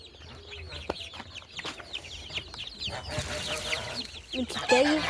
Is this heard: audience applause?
no